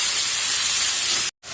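Dry red chillies, onion and curry leaves sizzle in hot oil for a bassaru tempering, making a loud, steady hiss that drops out briefly near the end and then resumes.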